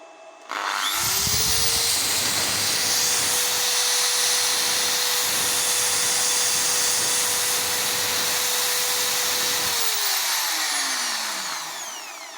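An electric drill powered through a TATALIKEN 12V-220V pure sine wave inverter spins up to a loud, steady high-pitched whine, holds it for about eight seconds, then winds down as the motor coasts to a stop.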